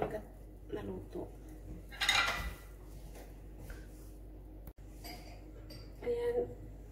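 A lid is set over a pan while breakfast cooks, giving a bright metallic clatter and clink, with lighter kitchen knocks before and after and someone talking nearby.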